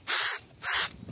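Two close, loud bursts of tire shine being sprayed onto a faded car tire, each a sharp hiss lasting about a third of a second, separated by a short pause.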